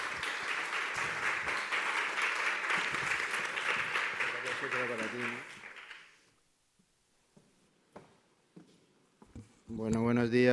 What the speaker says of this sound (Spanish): ahora un fuerte aplauso, un aplauso moderado para Ignacio.